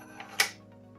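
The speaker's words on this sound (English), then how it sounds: "That's a click." Dry fire of a Longshot toy blaster fitted with a Jet Blaster Omega kit, a single brief sharp click close by, preceded by a faint tick in a quiet room.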